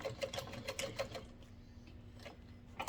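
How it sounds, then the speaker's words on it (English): A sewing machine runs a few short forward-and-back stitches through vinyl, a quick rhythmic burst of needle clatter, a pause, then another brief run, close and fairly quiet. "If you're using vinyl, only do like 1 or 2 forward and back stitches"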